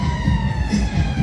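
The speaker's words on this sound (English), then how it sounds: "ambulance just there on the promenade" An ambulance siren on the Blackpool seafront promenade, its tone wailing steadily over a low traffic rumble through a short stretch, with no speech.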